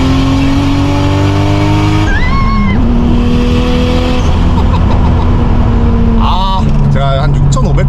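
A JDM car with its rev limiter removed revs high and loud, the engine note climbing and holding in sustained pulls with a brief drop between, filling the whole stretch close-up.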